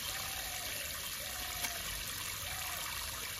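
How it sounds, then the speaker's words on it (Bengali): Water poured onto a potted pomegranate plant makes a steady, soft trickle that runs without a break under broad background hiss. "আমরা কিন্তু ভালো মতো গাছে জল দিয়ে দেবো।"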